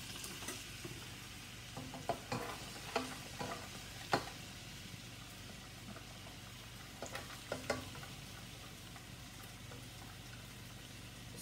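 Diced onions frying in a pot for chicken pot pie, seasoned with salt and pepper, giving a soft, steady sizzle broken by occasional spoon clicks and stirring scrapes.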